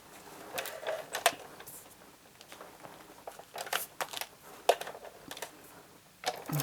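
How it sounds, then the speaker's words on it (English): A Big Shot die-cutting machine presses paper through a die, giving close, irregular clicks, crinkles and mechanical creaks in uneven bursts with no voices. "I'll bring my Big Shot over first, and I will die cut these."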